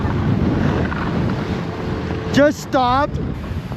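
Strong wind roars and buffets the microphone on Mammoth Mountain's ski slopes during a snowstorm, a steady low rumble throughout. A person speaks briefly near the end.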